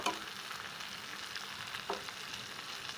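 Beef with chopped chillies sizzles in a pan while being stir-fried, a faint continuous frying hiss with a couple of soft scraping stirs, close by and without talk.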